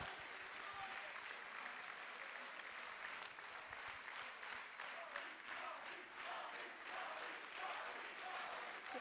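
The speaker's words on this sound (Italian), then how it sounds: "gli facciamo un applauso per tutto il lavoro che ha fatto" A concert audience claps for pianist Loris Di Leo at a spring choir concert, a sustained, even wash of many hands heard from within the crowd, fairly distant and steady, with faint murmurs mixed in.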